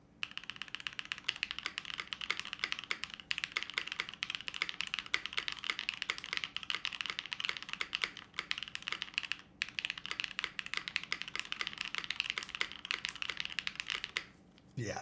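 Rapid, continuous typing on a gasket-mount mechanical keyboard, close and crisp with a steady clatter of keystrokes that pauses briefly near the end.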